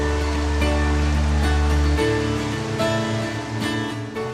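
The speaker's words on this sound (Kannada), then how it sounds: "ಉಡುಪಿಗೆ ಬಂದ್ರೆ ಕೂಡ್ಲು ಜಲಪಾತಕ್ಕೆ ಸುಲಭವಾಗಿ ಹೋಗಬಹುದು" Koodlu waterfall in Udupi, Karnataka, roars as a loud, steady broadband rush of falling water that fills the scene without pause.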